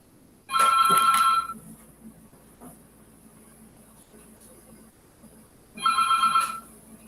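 A telephone gives two loud electronic rings about five seconds apart, each lasting roughly a second, with near silence between them in a quiet room.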